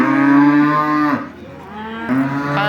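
A local cow lows at a livestock market in Mastchoh, a loud, close, drawn-out moo that breaks off briefly and then resumes, heard on its own with no talk.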